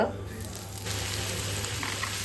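Mustard seeds sizzling in hot oil for a potato bhaji, a dense continuous crackling hiss, close and fairly loud throughout.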